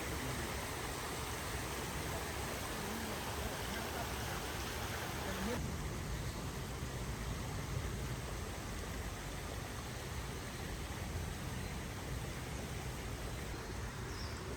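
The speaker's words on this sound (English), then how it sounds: "It's really nice just to stop and listen to the water for a while." Water flowing steadily at Minoh Falls, a broad continuous rushing wash with no breaks, soft and even throughout.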